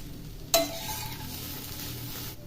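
Capsicum and egg frying in a pan are stirred. A sharp clank of utensil on metal comes first, followed by a low, steady sizzle that carries on quietly, with no talking.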